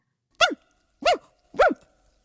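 A single dog barks three times in a steady, evenly spaced rhythm, loud and close, with no talking over the barks.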